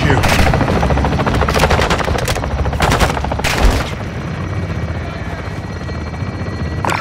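Sustained automatic gunfire fills the Las Almas, Mexico combat in Call of Duty: Modern Warfare II (2022), with bursts of shots over a loud helicopter rotor drone.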